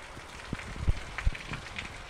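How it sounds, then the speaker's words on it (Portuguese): Rain falling outdoors in Arapiranga, Bahia, a soft steady patter with scattered louder drops and light wind noise. "Então tá aí caindo uma chuva aqui em Arapiranga"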